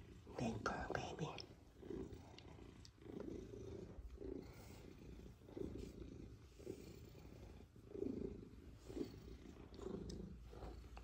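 Close, continuous purring from a large house cat, a low throaty rumble that swells and fades in slow waves, with quiet whispery voice sounds over it.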